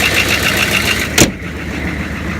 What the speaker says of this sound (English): Lots of leaks on the turbo, but like I said, it runs fine